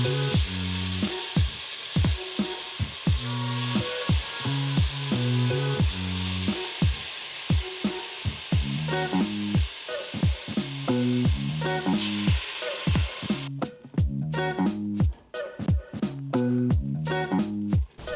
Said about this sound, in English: Once we got these bad boys seared nice and light brown